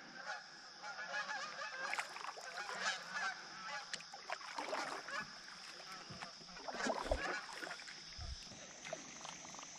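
A flock of geese honking over water during early-season hunting from a kayak in West Virginia, repeated nasal honks rising and overlapping at middle distance, with faint background noise.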